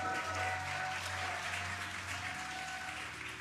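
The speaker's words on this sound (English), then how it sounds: "You can hear the crowd here." A crowd cheers and applauds at a viewing site during the Crew-9 Dragon Freedom capsule's parachute descent and splashdown, a dense sustained roar of clapping and voices with no pauses throughout.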